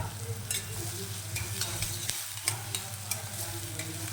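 Poha being sautéed and stirred in a pan over lowered gas with green chillies: a steady low sizzle under scraping spoon strokes, with a few louder clicks of the spoon against the pan, no voices.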